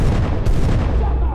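Dense, rumbling bursts of gunfire and booms in the video game SCP Containment Breach fill the whole stretch, loud and continuous, like a chaotic firefight with heavy low-end thuds.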